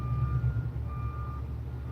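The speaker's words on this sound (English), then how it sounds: "It's just my garbage truck." A garbage truck reversing nearby gives a steady, repeated backup beep. It sounds clearly over the low rumble of its idling engine.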